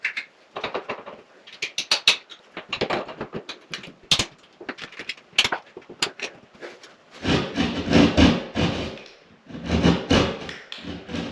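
A hole is trimmed out for new light fittings during a DIY bathroom renovation in Spain, heard as close, irregular bursts of rasping, scraping cuts and rubs separated by short pauses, growing heavier toward the end.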